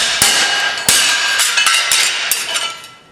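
A hammer beats a piece of welded metal flat, landing a handful of sharp, ringing strikes at an uneven pace, close and loud with no talking.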